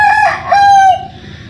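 Rooster in a small backyard zoo crows loudly and close by, one drawn-out cock-a-doodle-doo with a rising then held tone, alone without talking.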